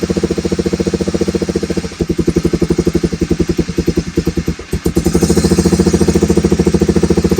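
A 1986 Honda Fourtrax 4x4 ATV engine idles on half choke while it warms up, with a loud, close, rhythmic throbbing. The beat stumbles briefly twice, then settles into a fuller, steadier idle.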